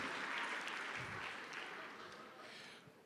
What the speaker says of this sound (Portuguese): Aplauda o Senhor pela vida delas